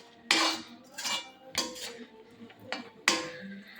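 A metal spatula scrapes and clinks against a pan in four or five separate strokes, close and crisp, while raw grated coconut and sweet ingredients for Panch Kajaya are stirred and roasted.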